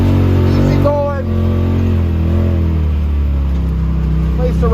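A Polaris Pro XP side-by-side engine drones and revs on a woodland trail, a loud steady low rumble with brief rising revs, while someone talks over it.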